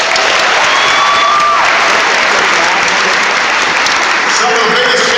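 A large audience at a Bladensburg High School speech by President Obama bursts into loud, sustained applause with some cheering, a dense unbroken roar of clapping that fills the whole stretch.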